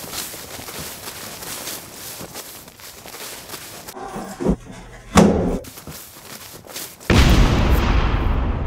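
Bomb blast in a Hulk film scene: scattered bangs and thuds build to a sharp boom near the middle, then a loud, sustained roaring explosion wash takes over at the end.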